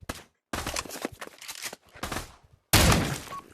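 Gunfire from the weapons of the VR shooter Pavlov VR, including sniper rifles and shotguns, comes in several sharp bursts separated by short pauses, ending in a loud, dense volley.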